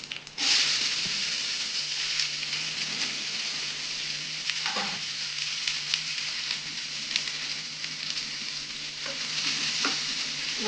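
Chana dal, urad dal, mustard seeds, cumin and onions frying in hot oil in a pan, a constant close sizzle with spatula stirring and scraping, no voices.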